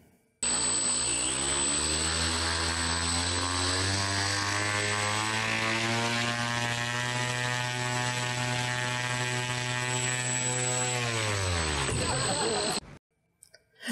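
A carbon-fiber passenger drone's propellers spin up into a loud, steady buzzing whine that holds for about twelve seconds, then winds down sharply near the end.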